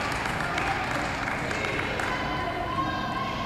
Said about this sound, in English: we need to take our hats off and give her a big applause